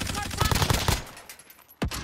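Video game gunfire from a RAM-7 rifle and Bullfrog loadout in a Season 4 shooter: a rapid burst of automatic shots in the first second, a quieter lull, then one sharp close shot near the end.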